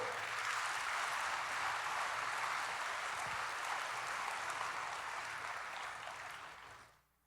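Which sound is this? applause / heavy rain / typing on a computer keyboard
applause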